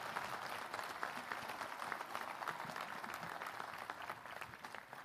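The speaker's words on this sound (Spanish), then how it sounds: "yo le quiero pedir un aplauso para mi madre y a mis hermanos que se encuentran aquí" Faint, sustained applause from an audience at a municipal civic event, a dense even patter of many hands continuing throughout.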